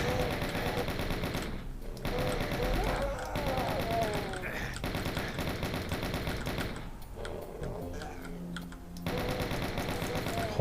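Chaingunner enemies in Doom fire rapid, dense bursts of gunfire that rattle almost continuously at steady loudness, broken by a few short pauses, with game music and effects layered underneath.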